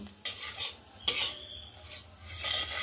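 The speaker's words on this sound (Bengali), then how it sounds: "একটু জিরে ফোড়ন দিয়ে দিচ্ছি" Cumin seeds hit hot sunflower oil and butter for tempering, making a soft sizzle. A utensil stirs and scrapes against the pan, with a sharp clink near the middle and no voices.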